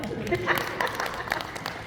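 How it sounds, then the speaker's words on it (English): A small audience at a podcast panel event in Los Angeles claps briefly, a light scattered patter of hands at low level that runs under ongoing talk and chatter. "I think that deserves a little round of applause"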